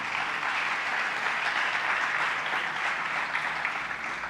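A church congregation applauds steadily at a sermon service, a sustained, even wash of clapping that sounds moderately distant and soft.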